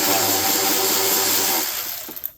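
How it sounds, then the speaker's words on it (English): A Milwaukee power ratchet runs during a timing belt and tensioner job on a 2003 Subaru WRX, a loud continuous mechanical whir that fades out after about a second and a half and ends in a few sharp clicks. "ratchet."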